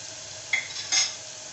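Potatoes and cauliflower frying in oil with cumin, chilli, turmeric and salt, giving a soft sizzle with two brief stirring scrapes close up.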